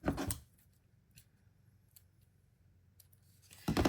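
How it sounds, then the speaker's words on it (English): Scissors snip a few times, sharp crisp cuts at the start and end with faint clicks between, close by and otherwise quiet. "I'll bring in my paper snips"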